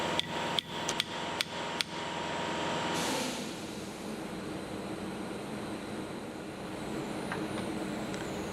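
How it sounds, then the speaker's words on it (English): Five sharp metallic taps from a tiny hammer ring out in quick succession during a motor roller rebuild, followed by a steady mechanical hum and background noise. "I was given this tiny little hammer."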